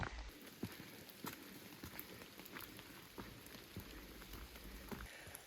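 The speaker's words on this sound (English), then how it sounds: "The rain has returned." Steady rain patters on a forest trail in Shenandoah National Park, a dense, even hiss of drops with faint irregular taps, fairly quiet and without voices.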